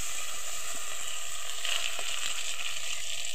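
Marinated mutton hisses and sizzles as it drops into lightly browned onions in a silver handi pot over low heat, a steady, fairly loud broadband frying crackle with no voices.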